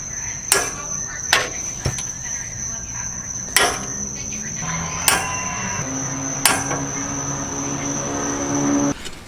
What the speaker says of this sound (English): I'm gonna actually mark the caps with a punch